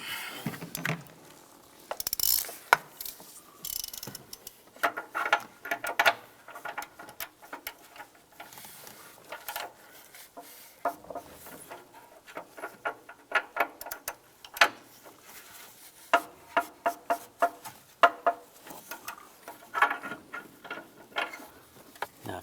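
A ratchet tightens the upstream O2 sensor on a 2006-2009 Volkswagen Rabbit, giving repeated close clicking and mechanical patter in uneven bursts that run through the whole stretch, with no talk.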